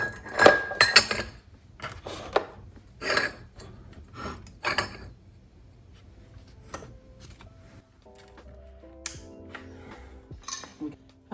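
Ceramic bowls clink and knock together as they are arranged and styled in a home kitchen, producing a cluster of close, bright clatters at first and then sparser light taps, with some quiet speech.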